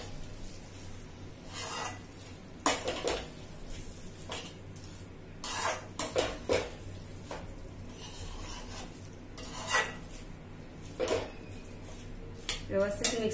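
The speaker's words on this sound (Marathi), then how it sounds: "त्यालाही पुन्हा एकदा व्यवस्थित मिक्स करूया।" A spoon scrapes and rasps against a pan as crushed peanuts are stirred into potato and spinach over a low flame, with intermittent scraping strokes close by and someone talking between them.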